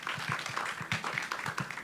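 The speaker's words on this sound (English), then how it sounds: "I want you all to give them another round of applause" An audience claps steadily, a brisk patter of many hands applauding together at close range.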